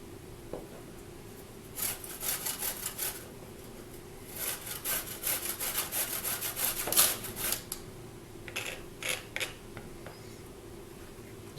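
Garlic cloves are rubbed against a kitchen grater for a Mediterranean dip, producing bursts of close, scratchy rasping strokes in several groups separated by short pauses.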